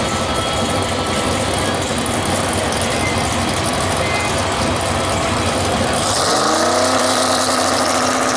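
Truck at Xtreme Raceway Park drag strip, heard as a loud, continuous engine roar with a rising pitch sweep near the end as it pulls away, under a dense crowd-and-track wash with talk mixed in.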